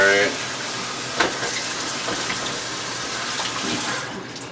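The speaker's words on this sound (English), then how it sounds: "I might need to rinse it out really quickly, actually." Tap water runs steadily over a bamboo steamer being rinsed in a sink, a continuous splashing rush with one brief knock, close and fairly loud throughout.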